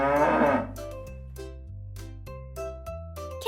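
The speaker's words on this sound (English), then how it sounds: "Cow" A cow gives one loud, close moo at the start, followed by light chiming musical tones.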